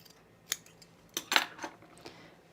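Scissors snip through fabric during garment alteration in a few short, sharp cuts spaced unevenly, close and fairly quiet with light metallic clicks.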